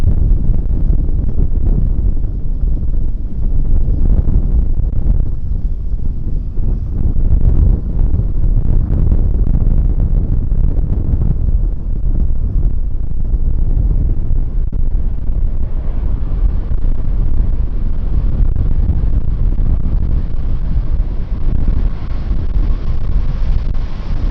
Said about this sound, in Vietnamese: chiếc máy bay Boeing 737 Max 8 cũng đang thực hiện chặng bay từ Kuala Lumpur về đến sân bay Tân Sơn Nhất và đang hạ cánh